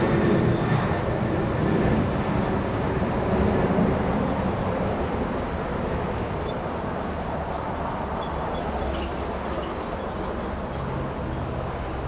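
A United Airlines Boeing 737-900 jet departs Los Angeles International Airport bound for Cancun, giving off a steady, broad roar of engine noise that holds at an even level throughout without voices.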